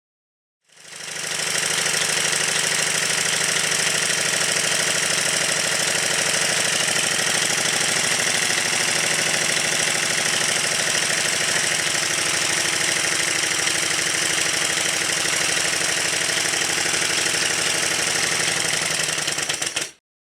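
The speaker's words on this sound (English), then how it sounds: "After running the engine for quite a while in both directions, it's feeling a whole lot better" A model Stuart triple expansion steam engine, freshly run in, runs steadily and close by, making a continuous rapid mechanical clatter and knock with a busy hiss that starts abruptly, holds an even pace throughout, then cuts off at the end.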